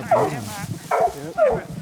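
Hunting dogs bark in three sharp bursts close by, each bark followed by a short pause, out in the woods during a mountain lion track.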